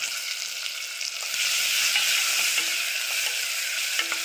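Onion frying in a pan for a mixed vegetable khichdi with peanuts, a bright continuous sizzle that grows louder after a second or so, with a few light clicks of stirring.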